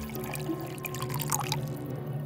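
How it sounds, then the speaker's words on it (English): Liquid poured into a cup during a children's science experiment. A short, faint trickle and splash sounds over a low background hum. "You're gonna take it and you're gonna pour it in to your cup."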